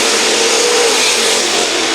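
A-Modified sprint race cars circle a dirt oval at the Hutchinson Nationals, their engines blending into a steady, loud, continuous roar with no break or individual pass standing out.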